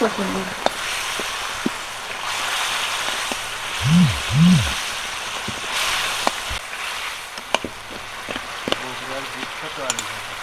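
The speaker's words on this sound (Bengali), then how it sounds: "কষানো মশলার মধ্যে এই যে মাছগুলো দিয়ে দেব ভেজে রাখা মাছগুলো সবগুলো দিয়ে দেবো" Fried fish pieces sizzle in spiced masala in a pan with a steady, soft hiss, while a voice briefly murmurs nearby.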